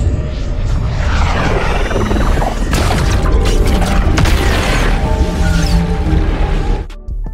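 An energy orb blows up during a Fortnite live event, with heavy booming blasts and crashing debris rolling continuously at close range, loud and dense throughout, then cutting off abruptly near the end.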